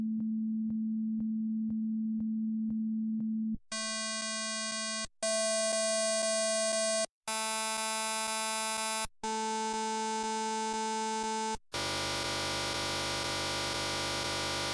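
A steady synthesized tone from SoundForge hums, then shifts through a series of brighter, buzzier sustained tones separated by brief gaps, ending in a harsh noisy buzz.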